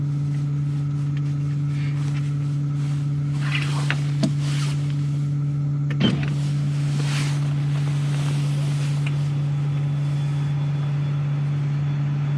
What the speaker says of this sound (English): You can actually hear the cooling.